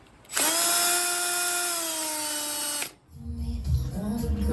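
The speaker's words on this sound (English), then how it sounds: "Tapping holes." A power tool taps threaded holes in metal for hood hinges on a tube-frame car, giving one loud steady whine of about two and a half seconds that cuts off abruptly, followed by softer clattering handling noise.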